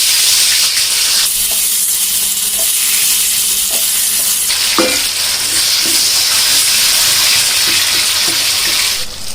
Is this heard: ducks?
no